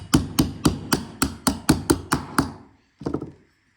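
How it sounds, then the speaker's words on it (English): Hammer blows drive the bolt out of an LS engine idler pulley: about nine sharp, evenly spaced metallic strikes, then a short pause and a final quicker cluster of lighter taps, close and loud. "But you can actually just drive the bolt out."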